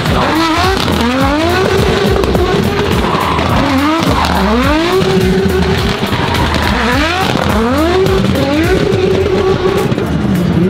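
A drifting car at the Oslo Motor Show, engine revving up and down in repeated surges while its tires squeal and skid, very loud and close throughout.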